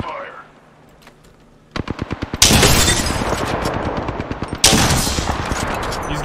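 Automatic weapon fire in the shooter game Apex Legends: a quiet lull, then a quick run of sharp shots building into loud, sustained rapid bursts with a second heavy volley near the end.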